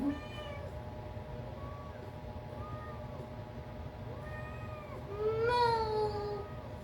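Several cat meows, some high and drawn out, overlapping in a moderately quiet room, with a louder burst of meowing near the end.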